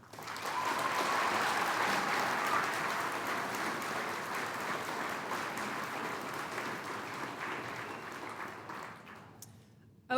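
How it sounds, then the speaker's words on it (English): A graduation ceremony crowd gives sustained applause for a class of summer graduates, a dense wash of many hands clapping that stays full and steady for about nine seconds before fading off near the end. "Please join me in giving this outstanding group of graduates one more round of applause."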